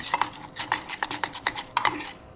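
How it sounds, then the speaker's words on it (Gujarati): Chopped onion, coriander leaves and chillies get stirred into a pakora batter, a spoon scraping and clicking against the bowl in quick rhythmic strokes, close and clear with no talk. "આ થોડાક મરચાં છે આને નાખી અને ફૂલ હલાવી નાખવાનું"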